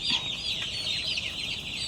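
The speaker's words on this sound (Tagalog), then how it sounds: "Ibang manok to, chicken to." Chickens clucking steadily on a farm, a busy flock of fowl heard close with overlapping calls and no talk.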